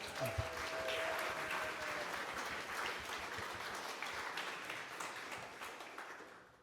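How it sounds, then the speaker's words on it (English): An audience at a neighbourhood talk claps steadily after a speaker, a sustained and fairly faint wash of applause that fades slightly toward the end. "Let's give another round of applause."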